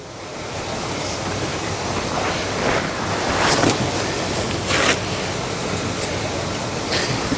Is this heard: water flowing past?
yes